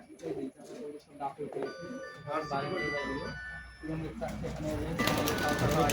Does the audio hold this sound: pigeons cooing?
yes